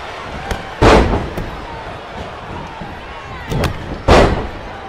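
Two heavy body impacts land on the ring canvas during a WWE tag team match, a loud thud near the start and another toward the end, over steady arena crowd noise.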